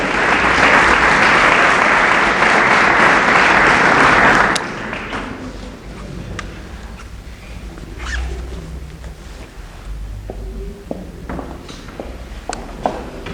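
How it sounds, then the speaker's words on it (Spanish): Audience applause at a talk on a Verónica image, a loud dense burst of clapping for about four and a half seconds that cuts down sharply to quieter room noise with scattered taps and bumps. "un aplauso para Mari Carmen y Alejandra"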